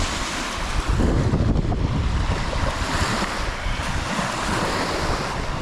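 Lake Superior waves wash onto the beach at Minnesota Point in Duluth, a loud, continuous rushing surf with strong wind buffeting the microphone and no voices.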